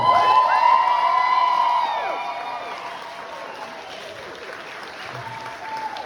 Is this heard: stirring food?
no